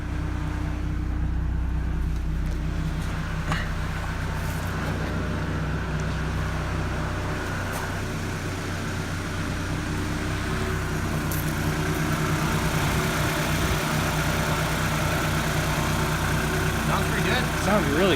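A car engine idles steadily with a low, even rumble throughout, while people talk nearby over it.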